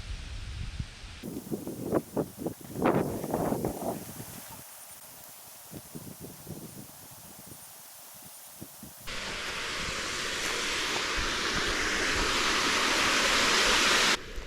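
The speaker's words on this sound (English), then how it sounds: "The water's fairly high, but it's only going through one pipe." Irrigation water rushes steadily through a single pipe, first in uneven splashing bursts, then as a loud continuous flowing hiss that grows toward the end.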